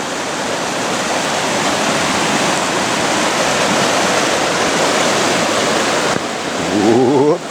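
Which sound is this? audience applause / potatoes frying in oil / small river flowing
small river flowing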